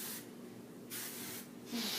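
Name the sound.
hair spray being sprayed during blow dry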